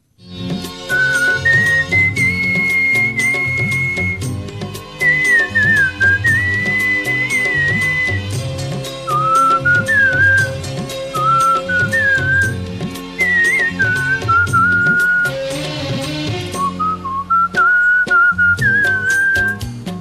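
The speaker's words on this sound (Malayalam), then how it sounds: "എറണാകുളം കൂത്താട്ടുകുളത്ത് ചൂളമടിച്ച് ശ്രദ്ധേയനായ ഒരച്ഛനും മകനുമുണ്ട്." A man whistles a melodic tune continuously, a steady wavering line of pitched notes over a full instrumental karaoke backing track with drums and bass; no talking.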